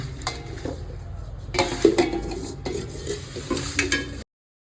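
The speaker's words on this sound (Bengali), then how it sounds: "ঢেলে ভালো করে এটাকে মাখবো" Flour dough being kneaded by hand in a bowl for dudh puli, a soft squelching and pressing with knocks and scrapes against the bowl, louder in the middle, with no voices.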